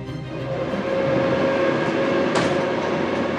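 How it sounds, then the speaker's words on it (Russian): A passenger train bound for Moscow rumbles steadily with a constant engine hum and rhythmic wheel clatter, loud and close, with one brief sharp hiss or squeal partway through and no voices. "Он сел в поезд до Москвы"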